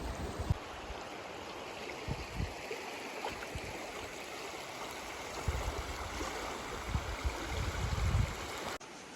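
Flowing river water while topping up a water bottle on a remote coastal hiking track, a steady broadband rush with a few louder gurgling splashes close by and no talk.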